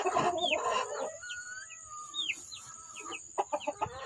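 Rhode Island Red chickens cluck in a loud burst at the start, then come short sharp chirps and calls, with a few clipped cackles near the end.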